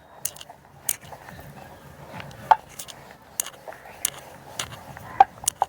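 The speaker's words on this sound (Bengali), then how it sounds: "একটু শুকনো ময়দা দিয়ে বেলে নিচ্ছি যাতে বেলতে খুব সুবিধা হয়।" Dough for mini pea-filled singara being rolled out with a dusting of dry flour, giving soft scattered taps and rolling-pin knocks against a board, fairly quiet and close, with no talking.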